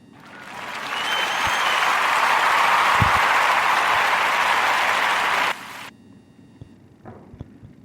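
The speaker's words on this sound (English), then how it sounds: "So clap it up for Spike Lee." A crowd applauding for filmmaker Spike Lee, with a steady wash of clapping that swells in, holds loud and even for several seconds, then drops sharply, leaving faint scattered taps and room noise.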